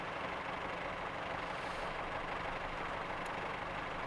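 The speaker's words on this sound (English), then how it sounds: "the engine sounds like it's on tick over inside the cab" In a Train Simulator cab, a diesel train engine ticks over at idle, a constant low rumbling drone that stays steady and unchanging, with no voices.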